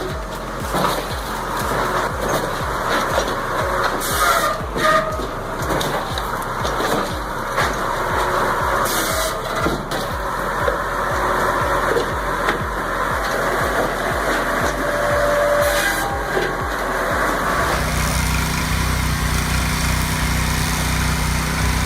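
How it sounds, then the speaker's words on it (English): Homemade log splitter with a rotating splitter head runs continuously, its small engine droning loud and steady before dropping to a lower, rougher tone near the end. "Believe it or not, this beast is homemade. That rotating splitter head is the real star here"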